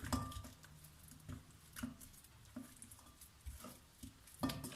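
Wet patting and squelching as lamb chops are turned in a marinade, soft irregular slaps and light clicks against a bowl, close and quiet.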